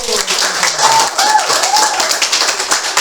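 A classroom full of people claps hands in a fast, continuous patter for several seconds, with a few voices calling out over it.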